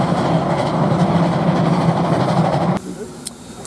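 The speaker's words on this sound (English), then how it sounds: "Another train excursion." A train rumbles past on the rails in New Zealand, a loud steady roar with clattering wheels that cuts off abruptly near the end, leaving quieter ambience with a few faint clicks.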